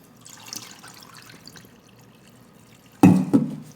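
A faint trickle of water runs for a moment, then a sudden louder splash as rinse water is poured off sticky rice.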